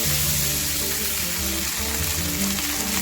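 Tomato and ground cumin paste stirred in a pan for vegetarian aloo dum, a dense, loud, steady sizzling hiss with soft scraping underneath.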